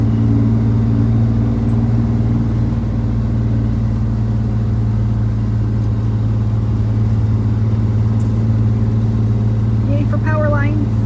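A car drives in along the road toward a rural Tennessee property, its engine a steady, loud low hum with road rumble filling the whole stretch, and people talk over it.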